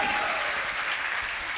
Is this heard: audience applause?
yes